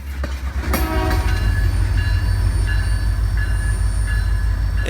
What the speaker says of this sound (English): the engine heads out of LeDoux and toward its destination with a much shorter consist in tow